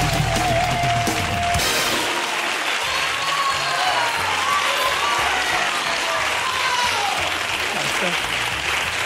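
A studio audience at a New Year's Eve television show bursting into sustained applause, dense clapping that swells and holds as voices call out and cheer through it.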